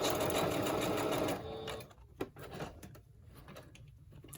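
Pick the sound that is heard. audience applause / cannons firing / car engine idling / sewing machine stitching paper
sewing machine stitching paper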